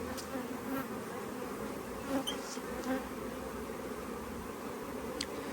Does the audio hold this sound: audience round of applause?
no